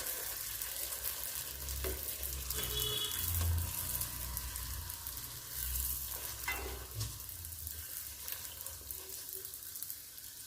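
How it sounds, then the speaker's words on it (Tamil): Puri fries and puffs up in hot oil with a close, crackling sizzle that swells and fades, and a few soft stirring and liquid sounds are mixed in. "என்ன நல்லா சூடாக இருக்கும் போது பூரி நல்லா புஷ்ஷுன்னு உப்பி வரும்"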